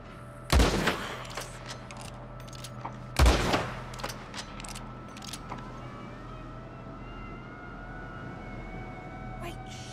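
Two loud, sharp gunshots ring out in Red Dead Redemption 2, spaced about three seconds apart over a steady hum of game ambience, followed by fainter clicks and distant noises.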